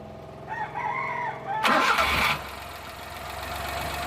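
Suzuki Multicab with an F6A engine that has a hard-start problem, cranking briefly and then catching with a loud burst of revving before settling to a steady idle; a rooster crows nearby beforehand.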